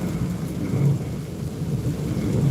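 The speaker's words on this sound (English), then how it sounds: "let you guys listen to the rain" Steady rain drums on a car during a night drive, a dense, even hiss with a low rumble from the road and cabin, close and continuous with no talking.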